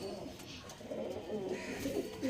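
Pigeons coo softly in low, rolling murmurs against a faint background hiss, a few calls overlapping at moderate distance.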